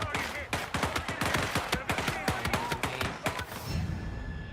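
Rapid bursts of gunfire in a VR shooting game, sharp repeated shots in quick succession, loud and close, trailing off into quieter background noise.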